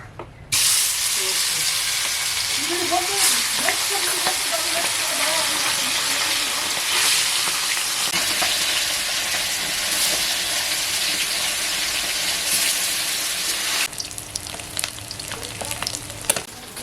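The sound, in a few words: tilapia fish frying in hot oil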